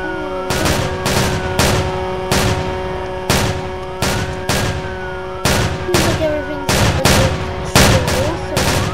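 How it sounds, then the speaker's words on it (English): Gunfire in the Roblox video game, a dozen loud sharp shots in irregular clusters, close and dominant over a steady game background. "Those gunshots?"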